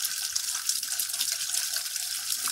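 A continuous, even gush of water pours into a container in a farming video game, steady and close with no voices over it.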